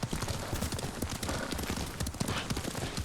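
Horse hooves clip-clop in a dense, continuous rhythm while riding in Ghost of Tsushima, loud and close throughout with no talk over them.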